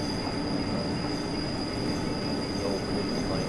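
A continuous high-pitched wheel screech from an ABe 4/4 III railcar in Train Simulator Classic rings over a loud rumbling rail roar, steady and unbroken throughout.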